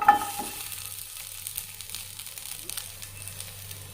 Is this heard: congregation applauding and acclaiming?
no